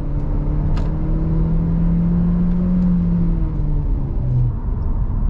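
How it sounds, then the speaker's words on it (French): A Seat Leon ST estate car is accelerating, with a steady droning engine tone that rises slightly in pitch, heard from inside the car, loud and constant, with no voices. "Là, on met les gaz."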